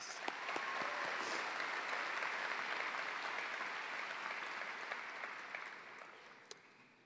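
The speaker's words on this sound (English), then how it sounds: "Give your teachers a round of applause, please." Graduation crowd at a 2019 high school commencement applauding the teachers, a broad, steady wash of clapping from many hands that slowly fades toward the end, heard from a distance in a large hall.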